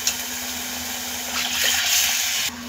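Hot water poured into a simmering masala paste for a hotel-style veg korma, a steady close, rushing pour that swells slightly midway and then cuts off abruptly near the end, with no talking.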